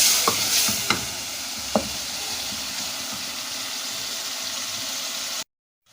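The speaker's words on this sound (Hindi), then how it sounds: "मसाला भून गया है" Masala stir-fried with red chili powder in a pan while making tori (ridge gourd) sabzi: a steady close sizzle with a few sharp clinks of a spoon against the pan, then sudden silence near the end.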